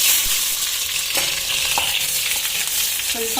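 Chopped onion sizzles in a spoonful or two of hot oil in a pan for an egg curry, a steady hiss with a few soft stirring clinks near the end, close and alone.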